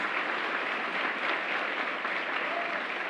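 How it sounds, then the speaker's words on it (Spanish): A church congregation claps steadily during a bilingual Spanish–English sermon, a dense, even wash of applause that holds at full strength throughout with no gaps. "Give a great round of applause to Christ."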